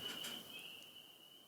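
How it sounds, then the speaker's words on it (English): Spring peepers calling at night in Maine form a steady, high-pitched chorus that holds one continuous shrill note, fairly faint and distant, with no talking. "So that's the sound of peepers in Maine."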